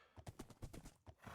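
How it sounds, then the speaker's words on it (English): Horse in the Minecraft video game, its hoof clip-clops and a brief whinny sounding in quick uneven steps, fairly close and moderately loud with no talking over it. "Where's my horse? I think I just saw it over here."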